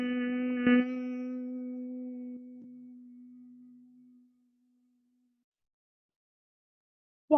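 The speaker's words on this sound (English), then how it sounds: "This time I want you to make a hum sound." A voice makes a steady, low hum as part of a yoga breathing exercise. The single sustained tone slowly fades to silence over a few seconds, and a brief vocal sound follows at the very end.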